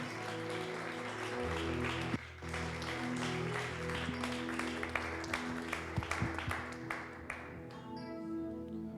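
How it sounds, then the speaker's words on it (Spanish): Applause from a church congregation, a steady wash of clapping over sustained music and background hum, fading toward the end. "Denle un aplauso al Señor"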